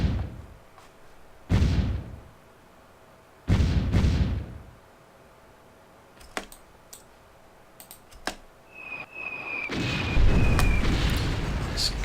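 Bombing explosions in the Supreme Ruler Ultimate strategy game, a few deep booming blasts a couple of seconds apart followed by scattered mouse clicks and a longer rumbling burst near the end.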